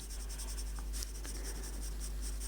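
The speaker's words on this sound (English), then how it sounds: "You put a few pencil marks in too, actually." Pencil drawing and shading on paper for a sketch of Stonehenge: close, steady scratchy graphite strokes running continuously, with a brief tap partway through and no talking.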